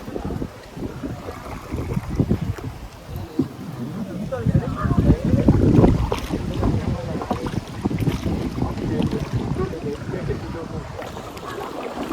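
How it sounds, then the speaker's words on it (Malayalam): Wind rushes over an open boat on the water near Amboori, Trivandrum, producing strong blustery buffeting and low rumbling gusts that swell toward the middle, with people speaking intermittently beneath the noise. "കാറ്റായി."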